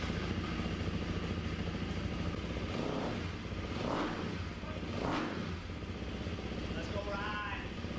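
A KTM 350 XCF-W motorcycle engine, freshly rebuilt, running with steady revving and rising throttle bursts, loud and close, with people talking over it.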